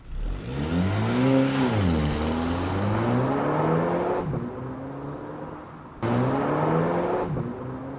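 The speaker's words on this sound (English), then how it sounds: "I'm gonna add a after video of the car pulling away to see if it still smokes" A car engine fitted with a cone air filter revs and climbs in pitch as the car accelerates away, easing off, then a second strong surge of engine noise.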